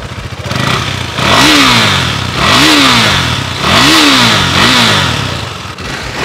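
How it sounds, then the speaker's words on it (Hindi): A KTM Duke 390 motorcycle with stock exhaust revs loudly in four repeated bursts, each rising and falling in pitch over a throaty idle, close by. "देखते हैं ड्यूक हमारी इसका स्टॉक एग्जॉस्ट कैसा है।"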